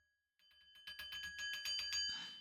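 A bell rung in a quick series of bright, rapid strikes, building in loudness over a couple of seconds and ending in a shimmering ring, close and clear with no voices.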